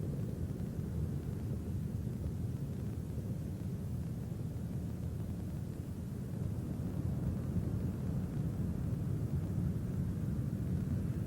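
Space Shuttle Endeavour's three main engines during launch, throttled back to two-thirds: a continuous, distant low roar and rumble, steady and broadband with no voices over it.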